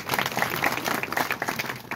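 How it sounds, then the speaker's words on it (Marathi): A crowd gathered at a live kirtan on the Machhindranath tradition applauds, a dense patter of many hands clapping at once, steady and close for a short burst. "त्यांच्यासाठी आपण टाळ्या वाजवतो"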